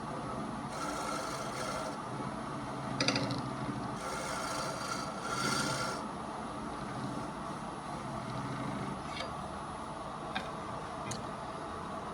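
Lathe tool scraping wood from the centre nub of a turned lidded canister, a steady close rasping hiss that swells in spots, with faint ticks and a few light clicks.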